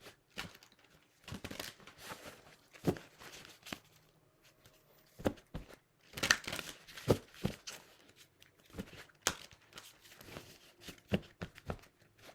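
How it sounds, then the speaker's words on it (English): Tarot cards shuffled by hand in bursts of soft riffling, slapping and crinkling, close and moderately quiet, with irregular pauses between shuffles and no talk. "I'm going to shuffle them on camera for you."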